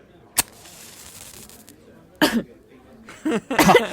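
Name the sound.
person coughing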